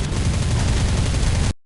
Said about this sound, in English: Your machine guns and cannons are perfect for hitting light targets with poor armor protection. Use them.